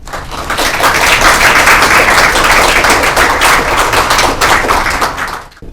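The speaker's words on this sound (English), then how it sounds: "let's please welcome him with a big round of applause" Audience applause welcoming a lecturer to a talk on Korean cinema, a dense steady wash of many hands clapping at full loudness for several seconds before tapering off at the end.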